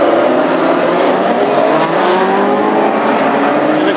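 Classic hot rod race cars running installation laps at Hednesford Hills raceway, a loud continuous roar of engines with rising and falling revs and some tyre squeal, close and alone without talk.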